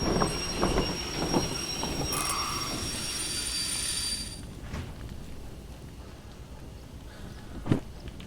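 Train wheels squealing loudly as a locomotive brakes to a stop in the VR railway game Derail Valley, with a steady rumble that fades toward the end and one brief clank.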